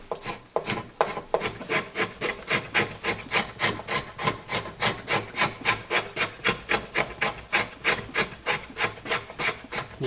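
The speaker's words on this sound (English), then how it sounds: "kind of shushing sound. That means you're getting good wood there." Steady, rhythmic shushing strokes of a hand tool shaving wood from a decoy body on a workbench, about three strokes per second for ten seconds, close and crisp with no talk.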